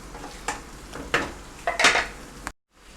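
Chicken karahi with achari masala sizzles in a pan while a spoon stirs it in several loud, close scraping strokes, then stops into a brief silence.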